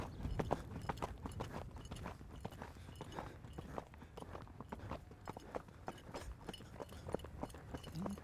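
An Icelandic horse trotting at an auction presentation, steady clip-clop hoofbeats in an even rhythm at moderate distance, continuing throughout with no talk.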